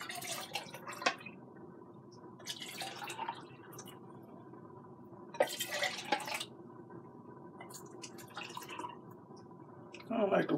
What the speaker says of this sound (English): So I'm going to rinse these cans out.